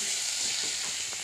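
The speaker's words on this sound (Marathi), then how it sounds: "मी आता हा बटाटा परतून घेणार आहे मी," Potatoes fry in a wok with ground green chili, ginger and garlic, giving a steady loud hiss and sizzle close by, alone without talk.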